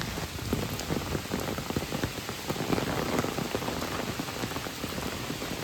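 Heavy rain pours down continuously near the source of the Krishna River, a dense, loud hiss of drops pattering on surfaces with no voices.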